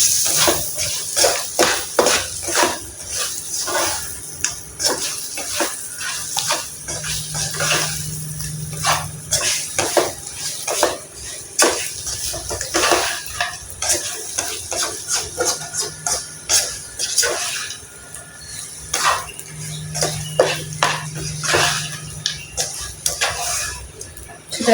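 A utensil stirs and mixes ingredients with fish sauce in a pan, giving repeated scraping and clinking strokes at close range, with a person talking over much of it.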